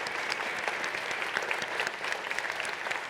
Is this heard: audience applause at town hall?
yes